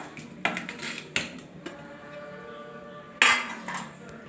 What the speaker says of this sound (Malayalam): അപ്പോൾ നമുക്ക് ചട്ടി എടുത്തിട്ട് അതിലേക്ക് അരിഞ്ഞു വെച്ച മാമ്പഴം ഇടാം.